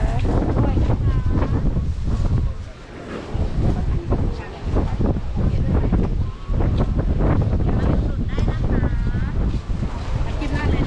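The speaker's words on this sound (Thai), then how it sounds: "ลมมันรุนแรงมากเจียวไหมคะ" Strong wind buffets the microphone at the fish pier market in Hua Hin, Thailand, a loud, continuous roar with gusty surges throughout, while people talk over it.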